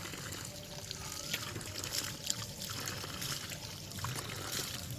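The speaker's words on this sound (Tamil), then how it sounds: "இங்கே தான் ஒரு குழா இருக்குது ரொம்ப பழசாக இருக்கும் போல்" Water dribbling from an old tap on a mango farm, a soft, faint trickle mixed with outdoor background noise and no talking.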